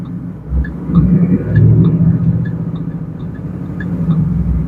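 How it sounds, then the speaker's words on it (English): A car engine being slowly revved to about 1500 rpm during tuning, a deep steady rumbling idle that swells and then holds, close by with faint rhythmic ticking over it and no talking. "a slow rev to 1500, hold for 10 to 15 seconds"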